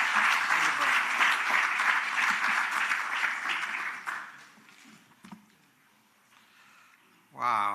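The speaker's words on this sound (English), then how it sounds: "Can we give him a round of applause," An audience applauds Prof. Pityana in a hall, a warm burst of clapping that fades out after about four seconds, followed by quiet and then a voice starting to speak.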